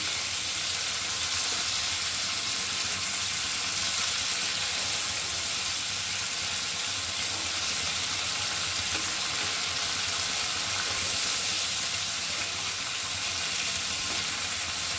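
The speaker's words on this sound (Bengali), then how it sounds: "ভালো করে একটু উল্টে পাল্টে ভেজে নেব।" Prawns rubbed with salt and turmeric fry steadily in a pan while being turned over, making a continuous close, loud sizzle with soft stirring scrapes and no voices.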